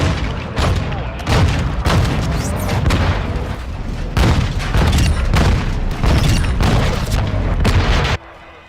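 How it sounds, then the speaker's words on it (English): Cruise missile strike in Call of Duty Modern Warfare II Ground War mode, a rapid series of loud, close booming explosions and rumbling blasts over several seconds before cutting off. "Hostile cruise missile launched"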